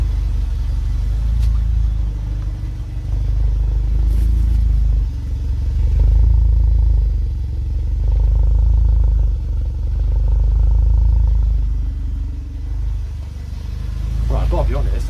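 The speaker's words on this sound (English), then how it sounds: "we gotta go and see what the exhaust sounds like now." A turbocharged Fiat Cinquecento's engine and exhaust rumble loudly, swelling and easing several times as the car drives, with occasional clatter.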